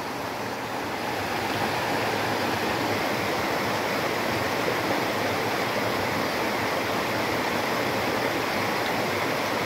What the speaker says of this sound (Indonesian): sungai ini berada di tengah hutan